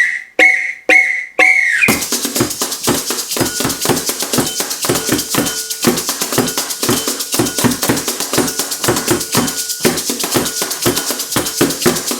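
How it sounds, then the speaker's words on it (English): Four sharp, high whistle blasts count in a samba band, which then launches into loud, rhythmic drumming with repeated pounding hits and rattling percussion continuing steadily. "I'm going to count you in with a blast of 4 on my whistle"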